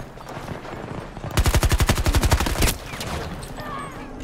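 A PP-29 submachine gun fires one rapid, evenly spaced burst of about twenty shots in a video game, loud and close and lasting just over a second, between quieter game background noise.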